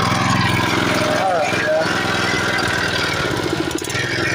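Small engine on a Chinese ZH14G Groundhog mini excavator, choke on, running with a steady loud putter and rattle throughout, close by.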